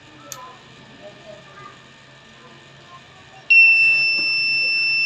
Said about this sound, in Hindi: पहले बीप देगा और फिर बंद हो जाएगा।